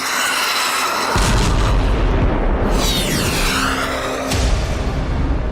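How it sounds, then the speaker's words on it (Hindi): A missile attack explosion effect: heavy booming blasts and a rushing, sweeping whoosh, loud and continuous with no voices. "Missile attack."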